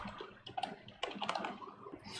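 Fast typing on a computer keyboard while writing code, a dense run of light clicks with a brief pause before a second flurry, close and moderately quiet, with no one talking.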